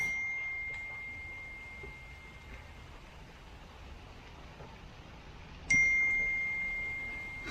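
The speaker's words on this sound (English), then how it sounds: "I'm getting text messages." Phone text message notification dings at a rainy outdoor radio operating site, two clear high chimes several seconds apart that ring and slowly fade over steady rain-like hiss.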